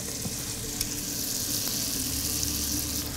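Onions sizzle steadily in a pan with mustard seeds and freshly ground cumin added, a dense, even frying hiss close up with no talk.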